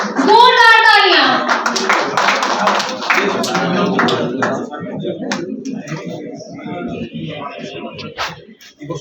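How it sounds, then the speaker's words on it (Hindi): Applause breaks out at a journalist award ceremony, a crowd's clapping rattling on beneath a speaking voice that dominates the start and fades into scattered claps. "जोरदार तालियां।"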